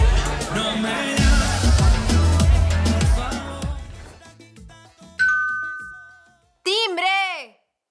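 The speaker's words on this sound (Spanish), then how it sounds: "¡Timbre!" A two-tone ding-dong doorbell rings loud and clear in a home after busy household noise and voices fade, sounding twice with a short gap between the chimes.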